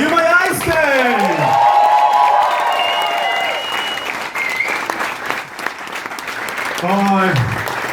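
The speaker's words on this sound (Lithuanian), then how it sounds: "Plojimai Aistei!" An audience at a comedy club open-mic night breaks into loud applause for a comedian. The steady clapping carries whoops and cheers, with voices rising over it near the start and end.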